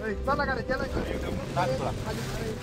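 Strong wind buffets the microphone on the misty, cold summit of Kalsubai mountain, a steady low roar that runs through the whole stretch while a person talks over it.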